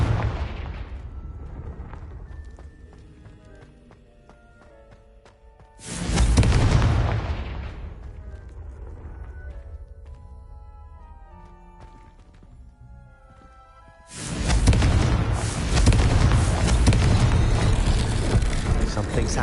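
Two heavy fiery blasts from the Confringo fire spell in Hogwarts Legacy boom out loudly, each followed by a long roaring tail, with quieter game sounds and music between them.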